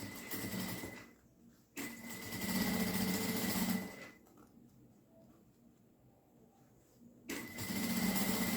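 Sewing machine stitching two fabric pieces together for a small zippered pouch, running in three close, steady bursts with a quieter pause between the second and third.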